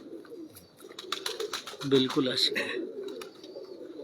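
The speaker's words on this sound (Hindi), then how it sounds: "ये उस्ताद जी के घर का ही कबूतर है" A pigeon kept at a breeder's home coos softly in the background, low murmuring calls running beneath close conversation between men.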